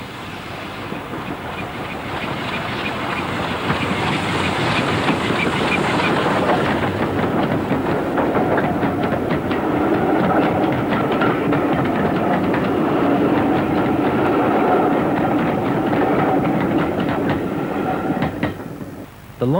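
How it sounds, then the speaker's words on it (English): A locomotive hauls a passenger train past railway cottages on a North Yorkshire moors line, a loud, steady rumble with rapid clickety-clack of wheels on rail joints building and holding, then fading away near the end. "4277 hauls a train past Farworth cottages."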